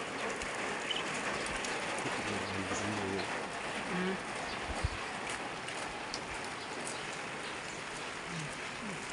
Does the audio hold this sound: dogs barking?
no